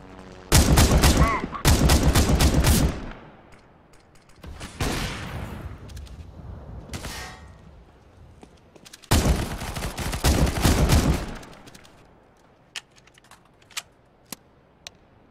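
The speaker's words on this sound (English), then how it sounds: "Shots coming from B." Bursts of CS:GO gunfire crackle in three loud clusters of rapid shots, the first and third dense and sustained, with a quieter volley between and a few sharp isolated shots trailing off at the end.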